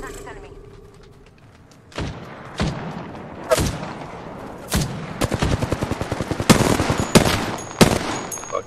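Video game gunfire from a battle-royale match, with several sharp single shots followed by a rapid burst of automatic fire, loud and close, with faint voices underneath.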